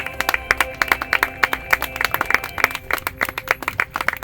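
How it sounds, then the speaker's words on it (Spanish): A church congregation at a communion service claps together in a quick, fairly regular rhythm, with sharp individual claps over a faint sustained musical tone in the background. "Dale tu mejor aplauso a Dios"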